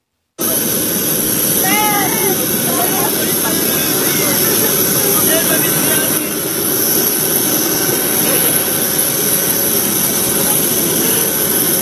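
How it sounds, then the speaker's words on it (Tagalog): A jet airplane engine roars steadily and loudly at close range, a dense continuous rumble with a high whine throughout, nearly unbroken for about eleven seconds. "Panoorin po natin itong emosyonal na pagsakay ni former President Rodrigo Duterte dyan po sa eroplano."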